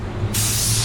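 A spray gun applying metallic black PPG water-based paint suddenly bursts into a loud, steady hiss of spraying, close by, following a moment of quiet background noise.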